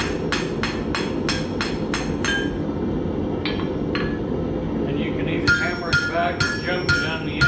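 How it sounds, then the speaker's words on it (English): A steel bar struck with a hammer against an anvil to snap it off: a quick series of bright ringing metallic strikes, a pause with two more blows, then a cluster of clinking impacts near the end. "Jump it on the anvil like this, and you end up with a nice clean cut."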